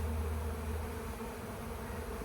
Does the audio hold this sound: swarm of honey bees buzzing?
yes